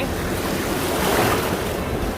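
Steady roar of strong ocean surf washing on a beach at Hua Hin, Thailand, with wind noise rumbling against the microphone throughout.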